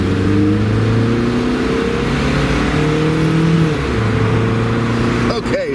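A 1985 Toyota Celica GT-S convertible with a four-cylinder engine and automatic transmission, heard from inside as it pulls away: a loud, steady engine drone with a brief shift in pitch near the end.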